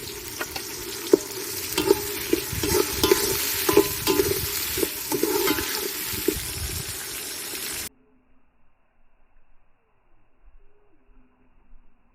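Chopped tomatoes are stirred into onions frying in a pan for a village-style fish curry, giving a steady sizzle with scraping stir strokes that cuts off abruptly, leaving near silence.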